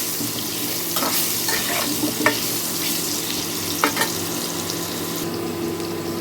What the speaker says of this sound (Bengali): এখন এই আলুটাকে আমি একটু লাল লাল করে ভেজে নেব